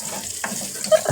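Chopped onion sautés in a hot pan with a soft, continuous sizzle, broken by a quick scrape of stirring partway through.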